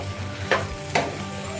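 Cabbage fries in a pan with a steady low sizzle, while two quick scraping stirs sound close up.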